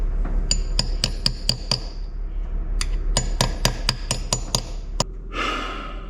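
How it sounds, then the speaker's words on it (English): Metal hammer blows on a pin punch driving out a broken bolt during an 80-series engine rebuild: two quick runs of sharp ringing strikes, about a dozen in all, close and loud, with heavy breathing between them. "Alright, so I managed to get one of them out, just using the pin punch."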